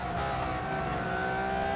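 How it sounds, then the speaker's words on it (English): A Ferrari engine in the Real Racing 3 game roars steadily at high revs, loud, continuous and close, with no voices over it. "Listen to that car roar. It's fast, it's grippy, and it roars."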